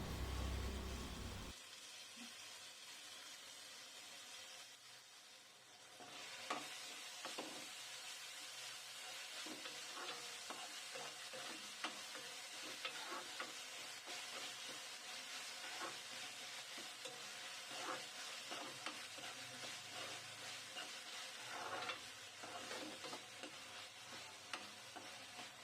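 Sliced onions and a thinly cut tomato sizzle steadily in hot oil in a pan as a stirring utensil scrapes through them, with a continuous close frying hiss and no talk.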